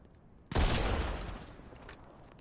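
A single sharp, heavy shot from a Mammoth pistol fired from the hip in Fortnite cracks out loudly, then trails off in a rumbling echo that fades over about a second and a half.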